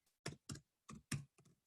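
Several short clicky bursts of keys being typed on a computer keyboard, close and fairly quiet, in irregular clusters with brief pauses between.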